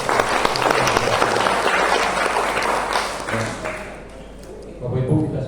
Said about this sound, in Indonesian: Mari Bapak Ibu kita beri aplaus tepuk tangan.